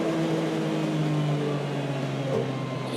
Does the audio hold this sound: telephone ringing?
no